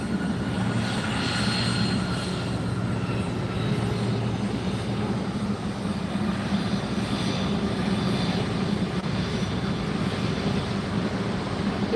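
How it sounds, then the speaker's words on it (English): A large Star Alliance passenger jet at Fort Lauderdale airport, its engines giving a steady, loud, unbroken roar with no talk over it. "Yeah, that's Star Alliance, big plane."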